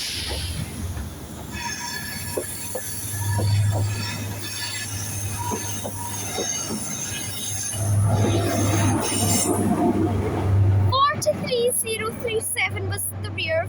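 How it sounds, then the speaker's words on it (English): HST diesel train with power cars 43183 and 43037 pulling away from Dundee station toward Glasgow Queen Street, its engines roaring loudly and swelling twice as it departs, with wheel squeal and clatter and high whistling tones near the end. "I love the sound of the HSTs roaring away into the distance towards Glasgow Queen Street from Aberdeen."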